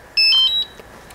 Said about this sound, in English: So first I'm gonna power on the controller.